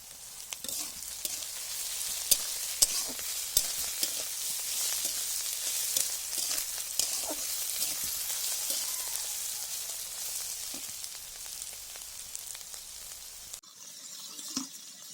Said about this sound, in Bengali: করলা অর্ধেক ভাজি হয়ে গেছে।